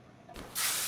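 Brief spray burst on a solid rear axle in the car-repair game Car Mechanic Simulator 2021: a short soft puff, then a loud sustained aerosol hiss close up, with no voices.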